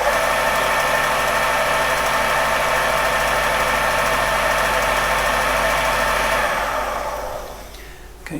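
A Creed 7B Mark 1 teleprinter motor under governor control runs with a steady, even hum and mechanical whirr at close range, then winds down and fades toward the end.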